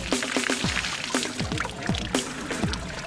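Water is dumped from a bucket over a person, heard as repeated splashing pours with gurgling, falling glugs, three close bursts spaced roughly a second apart.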